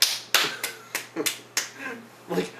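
A handful of sharp, close hand claps, about eight single slaps spaced unevenly over a couple of seconds, in a quiet room with nothing else prominent.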